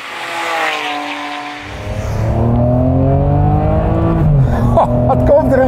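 A Ferrari with catalytic converters removed revs loudly up close, a rising engine howl building into a sustained heavy roar with sharp throttle blips near the end.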